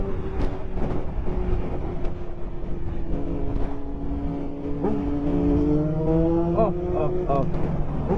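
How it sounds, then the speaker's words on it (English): A Triumph three-cylinder motorcycle engine fitted with an aftermarket exhaust, heard on a sunset superbike ride, holds a loud, steady harmonic drone that climbs and swells in pitch as it revs over about eight seconds. "Listen to the sound of this Triumph."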